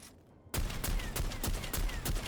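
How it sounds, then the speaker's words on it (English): Heavy stubber in the video game Necromunda: Underhive Wars opening fire after a quiet moment, a loud burst of rapid, evenly spaced shots that keeps going steadily to the end, with no voices. "Yeah, sounds like a heavy stubber."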